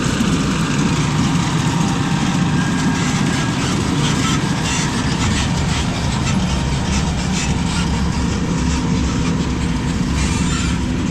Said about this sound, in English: Chopper's rolling in, he's rolling out